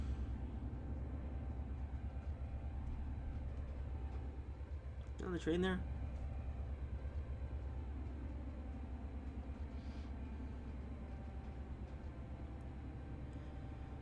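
A German passenger train rumbles low and steady in the Trainz Simulator 3 video game, on the Alpine Lake route while stopping at a station, a continuous quiet drone with a brief spoken question over it.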